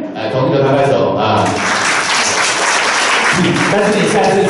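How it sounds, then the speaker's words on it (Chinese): A church congregation claps hands during a Sunday worship service, a dense, steady burst of applause that swells after a preacher's voice and fills the rest of the moment. "来，同意的拍拍手啊。"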